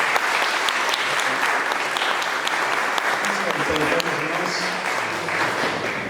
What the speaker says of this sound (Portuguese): Muito bem, uma salva de palmas atrasada.